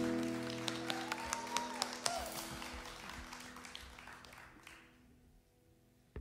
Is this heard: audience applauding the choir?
yes